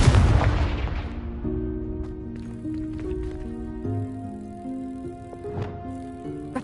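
A Confringo blast spell in the video game Hogwarts Legacy bursts loudly at the start and decays over about a second into sustained tonal game music, with a fainter sharp hit near the end.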